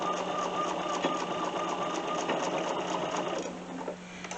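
A sewing machine stitches straight across the corners of a boxy fabric bag, running as a steady, close, fast mechanical whir and patter that carries on without a break and slows near the end.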